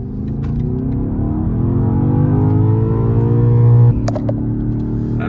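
A 2024 BMW XM on a test drive near Ridgefield, Connecticut, accelerates with a rising engine drone climbing steadily through the gears, heard from inside the cabin, then eases off abruptly near the end with a few faint clicks.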